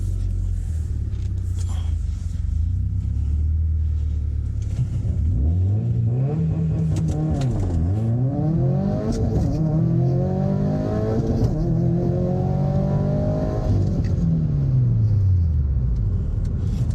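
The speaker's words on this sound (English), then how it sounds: "Let's see if we can get a good 0 to 60 run." A Subaru WRX STI (2015–2019 generation) running on E85 launches from rest for a 0-60 run, slightly uphill, its engine climbing through several gears with rising and falling pitch sweeps under steady loud road and cabin rumble.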